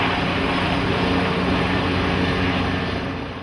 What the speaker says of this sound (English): The helicopter maneuvers and lowers the bar into the hole